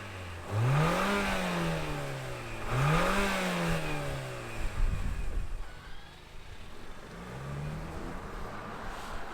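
The 2.4-liter turbo engine of a 2024 Toyota Grand Highlander midsize SUV revs twice in quick, rising sweeps, each settling into idle, then makes a softer third blip over a steady close hum.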